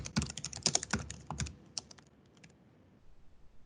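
Rapid keyboard typing, a burst of clicky keystrokes close up that thins out and stops, leaving quiet room noise.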